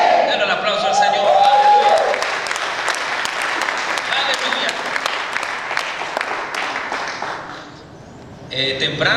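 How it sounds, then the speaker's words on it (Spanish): Congregation applauding during a Spanish-language church service, sustained hand clapping from a crowd with a preacher's voice over the start, the clapping thinning and fading toward the end before another voice returns. "Denle el aplauso al Señor."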